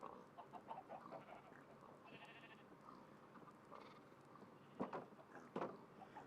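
Several sheep in the Minecraft video game bleat in short, quiet calls, scattered across a soft background hum, with two sharper bleats near the end.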